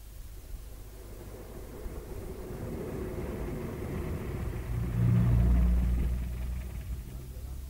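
A car drives off and pulls away in a radio drama scene, a low engine rumble that builds and swells to a peak before easing, with no talking.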